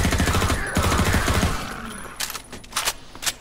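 Rapid, dense gunfire from Half-Life 2 MMod rattles loudly for about a second and a half, then trails off into a few scattered sharp shots.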